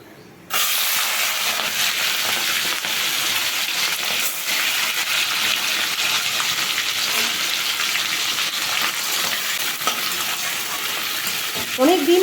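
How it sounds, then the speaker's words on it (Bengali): Shrimp sizzle loudly in hot oil in a pan, a steady broadband hiss running throughout after a brief quiet start, with occasional stirring scrapes and no talking. "এবার চিংড়ি মাছটা ভেজে নেবো"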